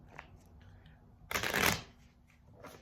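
A deck of cards shuffled in one quick riffling burst, close by, with a quiet background before and after.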